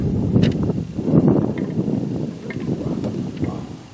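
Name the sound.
wind blowing outdoors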